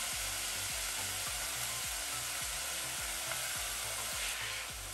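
Pork mince mixture with Chinese cooking wine frying in a wok, a steady loud sizzle with a repeating rhythmic scraping and stirring beneath it.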